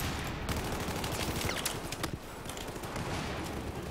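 Rapid gunfire in the video game Battlefield 4, a dense continuous fusillade of overlapping shots and bursts throughout, loud and steady with no talk.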